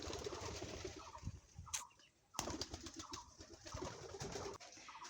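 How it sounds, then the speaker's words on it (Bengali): Pigeons feeding make soft coos and a couple of brief wing flaps close by, with a short sharp clatter midway, low-level and without talk. "দেখেন কবুতরগুলো খাচ্ছে,"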